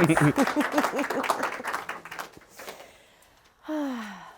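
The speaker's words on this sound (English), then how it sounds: "Big round of applause for Harrison Gotton." An audience applauds a speaker with crowded clapping and a few whooping cheers that fade out after a couple of seconds, followed by a single voice.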